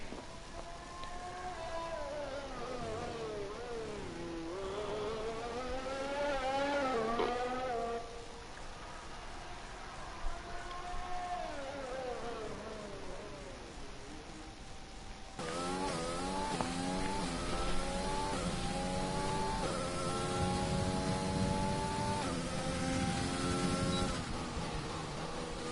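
Engine of the pink Racing Point Formula 1 car in an F1 video game, a high revving whine climbing and dropping through gear shifts, then holding a steady high-pitched scream, with no talk.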